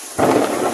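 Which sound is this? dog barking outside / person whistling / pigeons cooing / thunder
thunder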